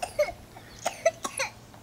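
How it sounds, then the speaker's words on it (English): A person coughing after swallowing lake water, a cluster of several short, rough coughs in an uneven rhythm, close and fairly soft, with no talking. "I'm coughing because I've just swallowed my 17th thing of water"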